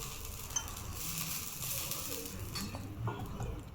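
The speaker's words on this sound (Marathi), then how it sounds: "तवा गरम झाला, त्यावर आपण आता थोडेसे तेल टाकू" Oil is poured onto a hot tava griddle, ready for sprouted green moong thalipeeth, and gives a steady low sizzle with a few faint scrapes and taps of a utensil, close and fairly quiet, with no voices.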